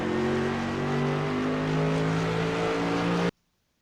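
Mercedes AMG GT3 race car at Spa under full throttle, a loud sustained engine howl rising steadily in pitch through the gears before cutting off abruptly.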